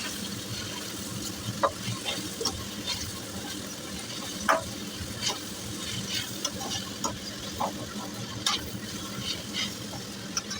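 Carrot, beans and cabbage being stirred and fried in a pan for fried rice, a steady soft sizzle broken by scattered scrapes and clinks of the spatula, quiet and close.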